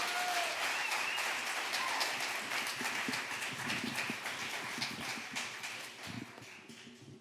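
A storytelling-night crowd gives a warm round of applause for a storyteller taking the stage, full and steady clapping that slowly tapers off toward the end.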